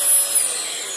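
Eureka ReadyForce vacuum cleaner running steadily with a broad, airy high whine, close and fairly loud for a brief moment, with no voices.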